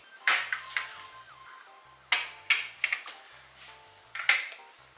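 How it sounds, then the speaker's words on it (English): A utensil clinks and scrapes against a bowl while flour, baking soda, salt and cornstarch are mixed for chocolate chip cookies. The sharp clinks come in short clustered bursts, with a soft tonal background underneath. "we're just gonna mix this all together"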